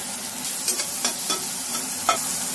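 Mushrooms and onion frying in a pan with salt and pepper, a soft, even sizzle broken by several light scraping stirs.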